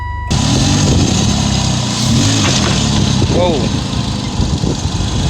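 An older Nissan Altima engine cranks and catches, then settles into a loud, steady idle with slight revving close by, after a brief exclamation from a person.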